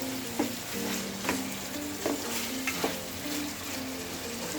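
Meat sizzles and fries in a pan for a spicy Iranian-style dish, a continuous soft crackle with a few faint clinks of stirring, fairly quiet and without talk.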